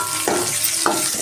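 Curry leaves and turmeric fry in hot oil, a steady close sizzle with two sharp crackling spurts as the leaves hit the pan.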